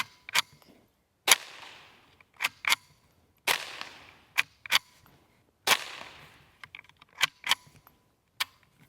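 A Ruger 10/22 rifle fires CCI Quiet rounds outdoors, a series of about a dozen sharp, fairly quiet cracks spaced irregularly, with mechanical clicks between some shots.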